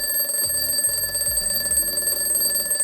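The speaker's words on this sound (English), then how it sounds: "I've got an old school alarm clock that goes off 5 minutes later" An old-school alarm clock rings loudly and continuously, its steady bright tone carrying a rattling buzz underneath, close and alone with no talking.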